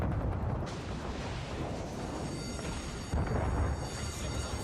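Battleship guns firing in World of Warships, a dense, continuous roar of booming gunfire and explosions with a louder burst near the end, no talk.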